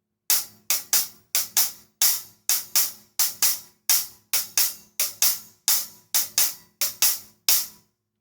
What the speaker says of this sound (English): So the pattern just on the hi-hat sounds like this.